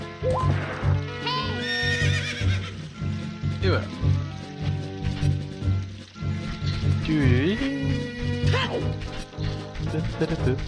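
A horse in The Legend of Zelda: Ocarina of Time neighs and whinnies repeatedly over game music and clopping hooves, loud and close, while someone talks over it.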